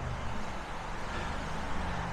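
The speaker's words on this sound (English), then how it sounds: "Now there's a load of traffic noise." Steady low rumble of road traffic passing near a walking route by Torside Reservoir near Crowden, a continuous broadband wash of cars and heavier vehicles with no distinct pass-bys standing out.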